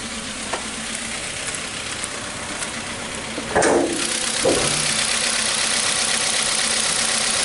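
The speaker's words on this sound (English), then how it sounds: "the vehicle is running really rough" A 2015 Hyundai Accent engine running rough with a loss of acceleration, a steady uneven idle throughout with a couple of brief louder bursts partway through, recorded close with no talking.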